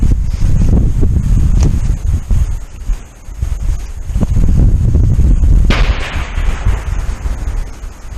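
Sharp gunshots at a steel target eight yards away crack out at intervals on an outdoor training range, several loud reports amid steady wind noise buffeting the microphone.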